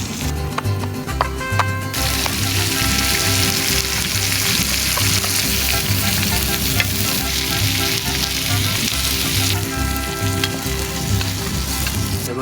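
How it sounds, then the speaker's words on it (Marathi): Stuffed karanji coated in semolina fry on a hot tawa with a loud, constant sizzle and crackle. A few light scrapes of a utensil sound close up, and no one talks. "आता फ्राय करू मस्तपैकी"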